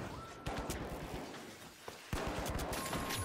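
Rapid bursts of FCAR automatic rifle fire in The Finals, loud and close, with dense overlapping shots and a sharp fresh burst near the end, under a busy game mix.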